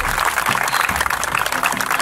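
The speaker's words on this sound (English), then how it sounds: "Let's applaud them please also." A crowd at a hotel resort ceremony claps steadily for the gardening team, dense continuous applause heard close throughout.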